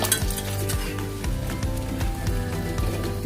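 Milk poured into a hot pan over asafoetida and ginger sizzles loudly and steadily, with spoon stirring and repeated metal clinks against the pan.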